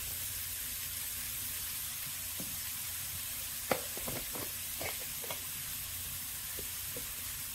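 Onion and dry spices such as asafoetida and turmeric fry quietly in a pan, a soft steady sizzle broken by a few light clicks and taps around the middle, faint and without talk.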